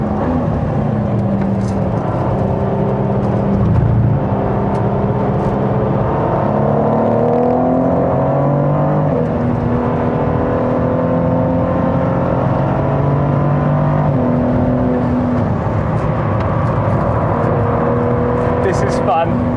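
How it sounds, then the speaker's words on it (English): A Ferrari F40 on track, with another F40 and a Mercedes CLK Black Series race car ahead down the straight; the engine drones loud and steady with rising and falling revs while a driver talks over it. "Down the straight, there's another F40 in front of me, and the CLK Black Series race car."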